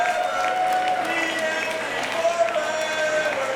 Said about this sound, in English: So give yourselves a fucking round of applause, man.